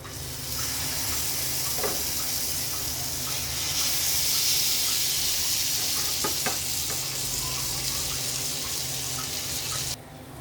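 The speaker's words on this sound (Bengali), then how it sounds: "আমার এই ব্যাচটা ভাজা হচ্ছে।" Chicken kebabs fry in a pan with a steady, close sizzling hiss that lasts throughout, broken by a few faint clicks and the soft scrape of a utensil.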